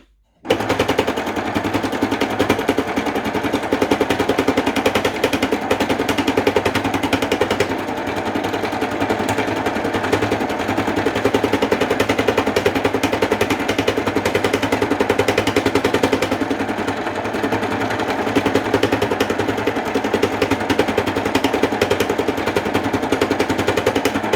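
A noisy needle felting machine runs steadily, its needles chattering in a fast, even mechanical rattle under a constant motor hum, loud and unbroken for the whole stretch with no talking.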